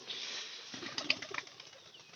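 Soft fluttering of native pigeon wings against a steady breezy background, with a few brief flaps and faint bird sounds, moderately quiet and not too close.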